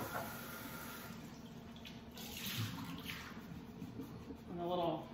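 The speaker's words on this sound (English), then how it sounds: "I'm just going to wash out the mixing bowl." Running water from a kitchen sink tap as a mixing bowl is rinsed out, a soft continuous splash at low volume with some clinking near the end and a voice talking faintly over it.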